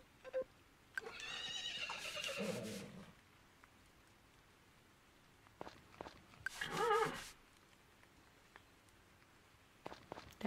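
In the Story of Seasons farming game, a horse gives two distinct whinnies a few seconds apart, each bright and rising, separated by soft footstep-like taps and quiet game ambience.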